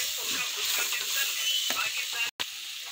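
Vegetables frying in a pan as turmeric, chilli and salt are stirred in, with a steady bright sizzle, scraping stirs and a brief clatter near the end, close and loud.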